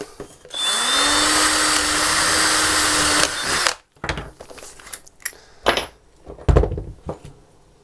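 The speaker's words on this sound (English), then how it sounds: "Just going to drill a small hole." A power drill whirs steadily for about three seconds, drilling a small hole in 6mm plywood, then stops, followed by a few clinks and light handling knocks.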